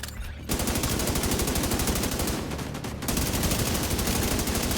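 An assault rifle in the video game The Division 2 fires long automatic bursts of evenly spaced, rapid shots, loud and close, with a short pause partway through before firing resumes.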